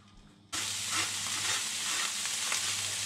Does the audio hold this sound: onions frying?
yes